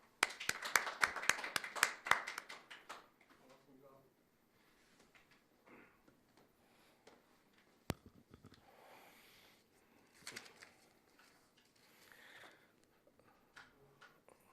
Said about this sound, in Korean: 박내호 회장님을 큰 박수로 환영해 주십시오